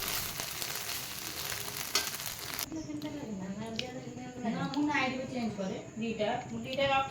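Soya chunks fry in oil in a pan with a loud, steady sizzle that stands alone at first. The sizzle then carries on beneath a person talking.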